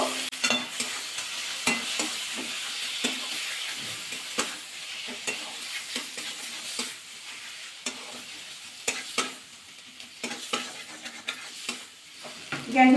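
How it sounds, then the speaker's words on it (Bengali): Spice paste of onion, ginger, tomato, cumin powder, Kashmiri chilli powder and dried chilli powder stir-fried over low heat for an egg curry, with a steady soft sizzle and repeated spatula scrapes at an uneven rhythm. "ভালোভাবে মশলাটা কষিয়ে নেবো"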